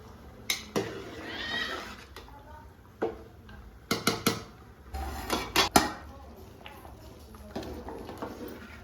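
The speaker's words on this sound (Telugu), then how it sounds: "కలుపుతున్నానండి. బాగా కలపాలి." Dal khichdi being stirred in a metal cooking pot, with scattered clinks and scrapes of a spoon against the pot, some in quick clusters, fairly faint, with a voice speaking at times.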